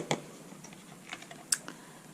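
Embossing powder shaken off a stamped Christmas card by tapping it, giving a few sharp, light taps spaced irregularly, close and fairly quiet with no talk.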